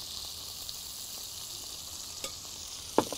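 Shrimp fry in a pan with a hot harissa, chili, ginger and tomato sauce, a faint steady sizzle with a couple of brief utensil clicks near the end.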